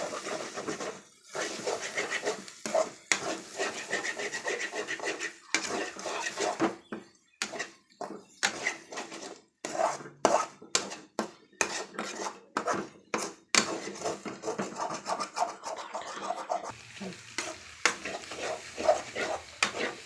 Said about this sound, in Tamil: நல்லா போட்டு கிண்டணும் ஃப்ரெண்ட்ஸ்